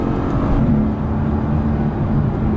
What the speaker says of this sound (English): you have the good old noise of the V8 behind you